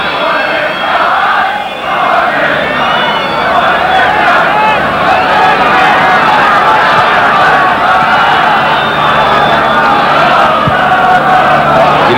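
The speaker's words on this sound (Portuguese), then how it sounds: "a torcida fica reclamando um penal" Football stadium crowd at a Vitesse versus PSV Eindhoven Eredivisie match roaring and protesting loudly for a penalty, a sustained dense din of massed voices filling the whole stretch.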